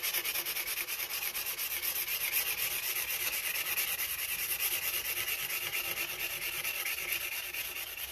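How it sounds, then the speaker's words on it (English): A luthier rubs 320-grit abrasive back and forth across the fret ends of a bass guitar neck, a close, even, rhythmic scratching strokes repeated fast and steadily with no talking. "What this 320 grit does is gets some of the machining or the teeth marks out that the file can potentially leave behind."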